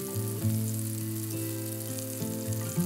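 Hake medallions fry in a pan with a steady loud sizzle, accompanied by a low continuous hum and occasional small clinks or stirring bumps.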